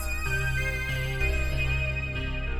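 Sustained musical tones play softly, a layered melodic cue with held notes and a low steady bass, no voices.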